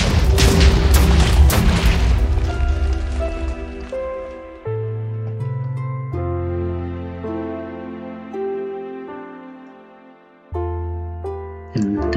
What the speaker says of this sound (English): And then here's the grenade launcher, which uses grenades. And, it does explode.